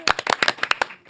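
Brief burst of audience applause greeting politician Park Jie-won at a Korean political talk show, a handful of sharp, uneven claps close by, fading near the end before one last clap.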